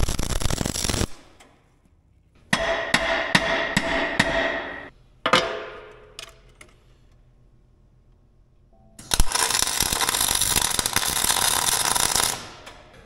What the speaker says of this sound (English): I'm just trying to get this thing tacked into place